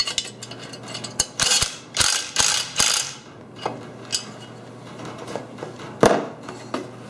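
A hand ratchet tightens bolts on a Shop Fox mobile base, giving up close, rapid clicking bursts in several quick runs, then sparser single clicks and light metal handling.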